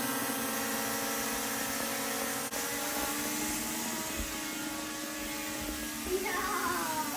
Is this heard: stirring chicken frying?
no